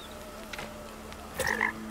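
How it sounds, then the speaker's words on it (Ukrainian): A frog croaks in the Blacktail video game, giving a few short close croaks over a steady ambient hum with faint insect-like buzzing. "А, це жаба."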